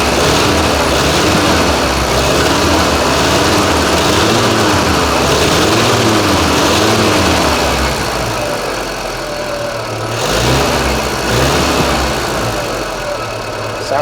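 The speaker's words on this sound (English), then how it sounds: "The engine is running." A Żuk van's engine running after repairs to a wrecked valve seat and bent pushrods, a loud close idle with a rough, pulsing throb that eases and shifts slightly toward the end.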